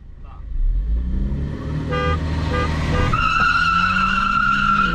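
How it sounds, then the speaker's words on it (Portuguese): A Ford Fusion AWD Turbo or Polo GTS Turbo car horn sounds in a sustained blare over a running engine during a street duel, with tires squealing briefly beforehand. "Eu buzino."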